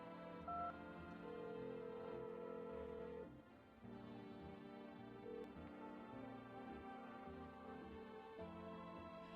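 A telephone being dialed in the video game No, I'm Not a Human: a run of steady electronic key tones plays over continuous layered game music.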